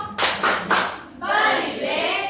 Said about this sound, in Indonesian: Tepuk wow untuk kelompok 2 dan kelompok 4